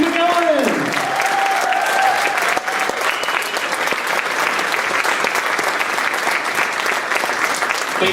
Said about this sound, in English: Keep that applause going for 2016 Saber Guard and Saber Marching Band.